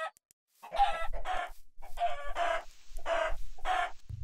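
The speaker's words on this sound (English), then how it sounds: "Chickens!" Chickens in the game Minecraft cluck in bursts. Several close, rapid clucking phrases repeat over a few seconds against an otherwise quiet background.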